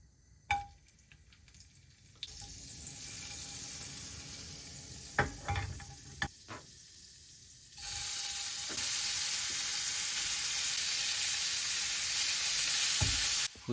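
Butter sizzles and fries in olive oil in a pan, a steady hiss that jumps louder partway through, with a few clinks and scrapes of stirring early on.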